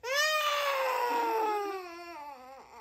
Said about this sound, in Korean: 크게 운다.